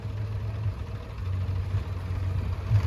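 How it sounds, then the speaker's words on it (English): A Massey Ferguson 135 tractor with a Perkins P3 engine idles at a steam rally, a steady low diesel hum held evenly at moderate distance with no talk. "The Massey Ferguson 135 with a Perkins P3 engine."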